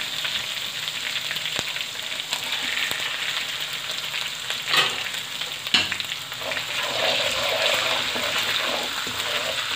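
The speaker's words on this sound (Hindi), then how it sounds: "बस 1 मिनट इनको फ्राई करके" Spices frying in hot ginger-garlic paste for a boneless chicken achari karahi, a steady close sizzle running throughout with occasional stirring scrapes and clinks, no talking.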